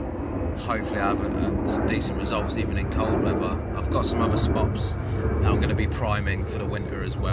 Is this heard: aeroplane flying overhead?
yes